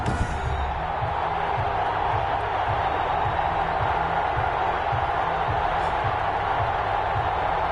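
Stadium crowd noise from a PS4 football game, Philadelphia Eagles against the Toronto Thunderbirds, a steady, dense roar that holds at an even level throughout with a low rhythmic undertone and no clear individual cheers.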